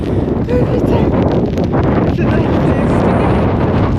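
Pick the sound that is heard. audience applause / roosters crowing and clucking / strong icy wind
strong icy wind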